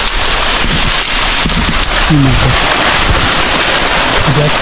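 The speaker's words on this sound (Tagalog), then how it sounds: "malakas ang ulan mga kasoya" Heavy rain from a storm pours in a dense, continuous hiss close by, with brief faint voices under the downpour.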